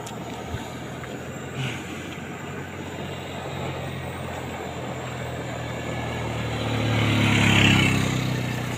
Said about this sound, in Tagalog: May motor.